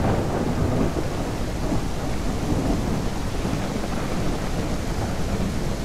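Heavy rain pours down in the survival video game No One, a loud, dense, unbroken roar of downpour with a deep rumbling undertone, steady throughout with no voices.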